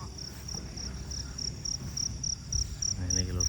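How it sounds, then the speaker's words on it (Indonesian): Crickets chirp in a steady, evenly spaced pulsing trill at a night market field where trucks are arriving, with low rumbling background noise and a faint voice toward the end. "ini lho jangkrik apa ini lho"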